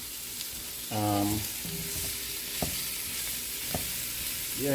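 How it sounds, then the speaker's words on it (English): Oxtail meat browning for Jamaican curry oxtails, sizzling steadily in a hot pot with a low continuous frying hiss, close up, a brief spoken word and a couple of faint clinks over it. "So what you want to do now is just burn you're actually browning your meat right now"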